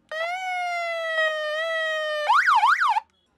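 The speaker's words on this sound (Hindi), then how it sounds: "ये छोटी सी हम हूटर बोल सकते हैं, बाल्टी बोल सकते हैं।" A small add-on car hooter siren, switched on by remote, sounds a steady loud wailing tone for about two seconds, then shifts into a quick warbling yelp before cutting off.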